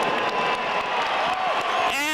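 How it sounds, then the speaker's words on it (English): Stadium crowd at a baseball game applauding and cheering Alan Trammell in his final game in a Detroit Tigers uniform, a sustained roar of clapping and cheers with whistles and whoops rising above it. "Listen to this crowd."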